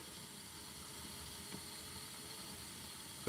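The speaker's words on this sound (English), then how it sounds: "It's tea kettle steam blowing" Steam blows steadily from a tea kettle near a candle holder, a constant faint hiss that stays even the whole time with no voices.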